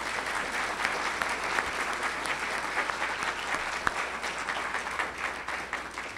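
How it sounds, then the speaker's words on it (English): Audience applause at an awards ceremony: a steady, even wash of many hands clapping continuously at moderate level for several seconds, with no voices standing out. "Please uh, give her another round of applause."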